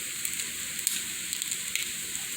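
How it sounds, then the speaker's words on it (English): Salmon patty refrying in olive oil in a frying pan, a steady soft sizzle with faint crackles and pops throughout. "Heat up the frying pan with some olive oil and throw it on there and kind of just refry it up."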